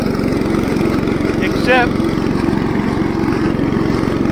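An IH Cub Cadet 149 lawn tractor mows thick barnyard grass, its engine droning loud and steady close by with a rhythmic pulse, while a person speaks briefly partway through.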